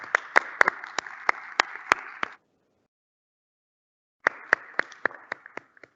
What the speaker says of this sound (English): I think they need a big round of applause as well.